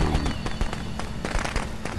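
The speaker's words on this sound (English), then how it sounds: "And they keep throwing fireworks" Rapid crackling pops and sharp bursts fire in quick succession, like fireworks going off in the video game Friday the 13th, loud and close with a steady noisy bed beneath.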